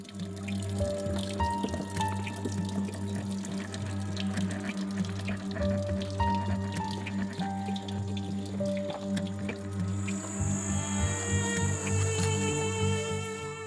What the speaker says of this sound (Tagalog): sa sobrang hina ng tulo rito, ang isang plastic container aabuti ng 5 minuto bago mapuno.